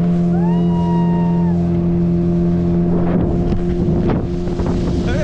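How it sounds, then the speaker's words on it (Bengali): A small fishing boat motoring along at speed off the coast at Puri, its steady engine drone loud and close with strong wind buffeting the microphone throughout and rougher water noise toward the end. "এটা মাছ ধরার নৌকো একটা।"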